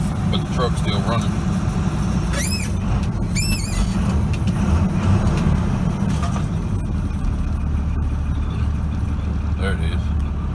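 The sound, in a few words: 1997 Dodge Ram Cummins diesel truck engine running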